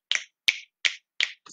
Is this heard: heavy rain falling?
no